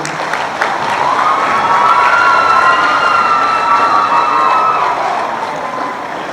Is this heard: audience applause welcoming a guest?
yes